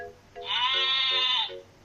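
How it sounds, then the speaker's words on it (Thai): A single, clear, wavering goat bleat rings out close by for about a second, then fades away. "แพะ goat, แพะ"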